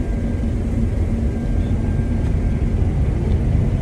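A CLAAS combine harvester cutting wheat at night fills the cab with a steady, loud, low engine drone and rumble, with no talking.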